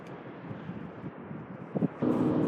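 Wind buffets the microphone in a steady low rumble on the Bunda Cliffs clifftop in South Australia, growing rougher and louder in the final moments.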